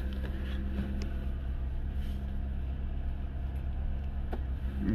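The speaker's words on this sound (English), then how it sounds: "Car's still on." A 2006 Maserati Quattroporte Sport GT, a salvage-title car, sits idling with a faint, steady low engine hum and a few small clicks.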